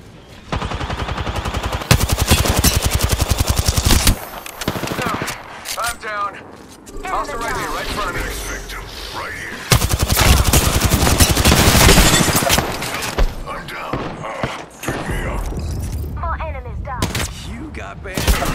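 Rapid video-game gunfire crackles in loud, dense bursts, some sustained like automatic fire and some broken by short pauses, while a player talks over the shooting.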